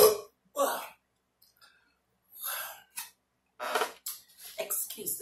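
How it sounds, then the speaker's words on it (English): Several short, throaty burps from a person drinking 7-Up soda during a Chinese food mukbang, coming as separate close bursts with pauses between, then a quicker cluster near the end. "I promise I burp fast off these sodas."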